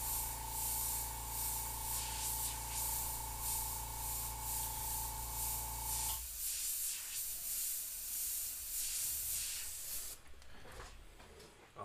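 An airbrush spraying paint for a skull design, a steady close hiss over a compressor hum that cuts out partway, leaving a fainter hiss with light handling noise.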